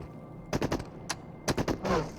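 AK rifle fire in the VR shooter Into the Radius, short bursts of two to four rapid shots separated by brief pauses, close and punchy against a quiet background.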